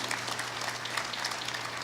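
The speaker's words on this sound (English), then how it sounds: "So please give them a round of applause." Audience applause for panelists at a conference session in Algiers, a steady, even patter of clapping from a sizable crowd, heard at moderate distance with a low hum beneath.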